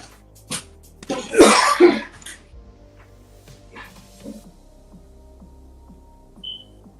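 A burst of close coughing early on, followed by quieter scattered clicks and a faint high beep near the end.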